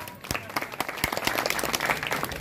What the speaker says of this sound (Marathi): सरांसाठी एका जोरदार टाळ्या वाजवा.